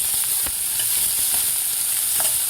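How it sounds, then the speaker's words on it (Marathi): Finely chopped onions sauté in hot oil over medium gas while cooking masala bitter gourd, a close, steady sizzle with a few faint scraping stirs. "आता कांदा आपल्याला व्यवस्थित परतून घ्यायचा आहे थोडासा गोल्डन कलर होईपर्यंत."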